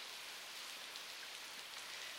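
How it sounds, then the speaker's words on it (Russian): Rain falling steadily in an animated scene, a faint, even hiss of drops with no distinct individual hits and no voices. "Не ходи под дождь."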